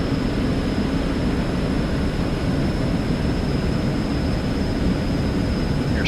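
Eclipse 550 twin jet engines held at takeoff power in the X-Plane 11 flight simulator, a loud, steady broadband roar with a faint high whine running unbroken throughout, no voices.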